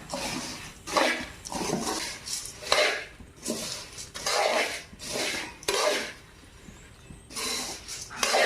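Puffed rice stirred and sautéed in a pan over low heat gives rhythmic scraping strokes about once a second, dry and close, with short pauses between bursts.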